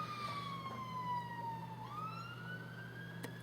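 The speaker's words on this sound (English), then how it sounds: "Oh, ambulance." A distant ambulance siren wails, its pitch slowly sliding down and then rising again, faint and steady against a quiet room hum.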